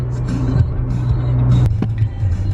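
A car's interior fills with a steady low engine and road hum while driving, continuous and fairly loud, with a few faint knocks and no talking.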